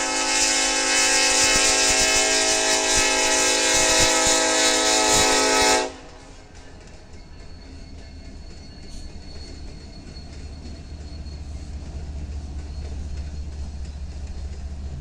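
Union Pacific eastbound manifest freight train at Houston, with a loud sustained horn blast for several seconds, then a steady rumble of passing railcars and wheels.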